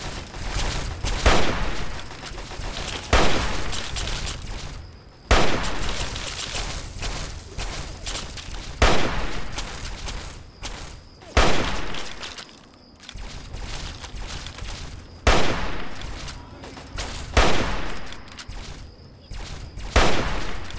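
Repeated hunting rifle shots and surrounding gunfire in the Fallout 3 PC game, sharp loud blasts arriving every couple of seconds over a busy, noisy battle background.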